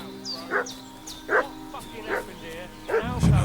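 Dog barking in the medieval role-playing game Kingdom Come Deliverance 2, four short sharp barks spaced about a second apart at moderate distance, over ambient game sound, with a louder rumble entering at the end.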